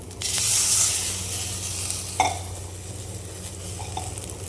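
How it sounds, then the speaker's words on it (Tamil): Quail eggs poured into onions frying in a pan, with a burst of hissing sizzle as they hit the oil, then a softer steady fry with a single utensil clink against the pan, close and without talk. "இந்த டைமில் வந்து நம்ம காடை முட்டையை அப்படியே ஊற்றிடலாம்"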